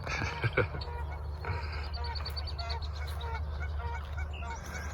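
Wild geese raising families near a traffic area, giving several nasal honks at a moderate distance over a low traffic rumble, with other birdsong scattered around.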